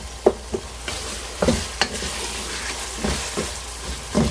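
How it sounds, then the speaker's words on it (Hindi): Minced meat keema is stirred and fried in a pan after releasing its oil, a soft sizzle broken by several sharp scraping strokes of a spoon at irregular intervals. "हालांकि कीमे ने ऑयल छोड़ दिया है, लेकिन फिर भी हमने इसकी अच्छे से भुनाई करनी है।"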